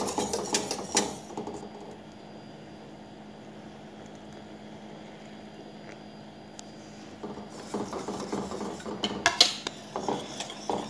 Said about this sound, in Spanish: Cuando le hemos agregado la maicena, no vamos a dejar de mover hasta que hierva.